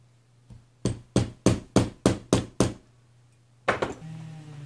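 Seven sharp, evenly spaced hammer taps drive a trigger pin into a Hiperfire 24E trigger, each strike crisp and close, followed by a final pair of quicker knocks and a faint hum.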